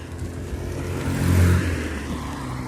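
A car passes by on a rural road beside fields on a rainy day, its engine swelling to a peak mid-clip and then fading, with no talk.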